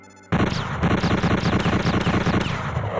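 Rapid, evenly spaced gunfire from a semi-automatic bolt gun in an audio game, about a dozen shots in a fast steady stream after a short quiet start, loud and close.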